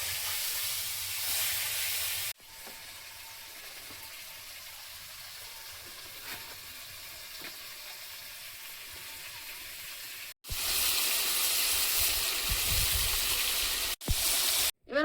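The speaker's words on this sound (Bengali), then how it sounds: "চারটে আছে একেবারে ভেজে নেব বাকি মাছগুলো ভেজে নেবো" Fish fries in a pan as a steady hissing sizzle, louder at the start, softer through the middle, then loud again near the end, broken by brief cuts and with no talking.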